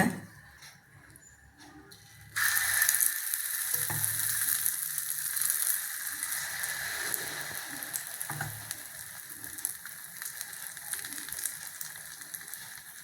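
Bread batter poured onto a hot dosa pan breaks into a sudden steady sizzle that carries on at an even level, with faint scraping sounds now and then in a quiet kitchen.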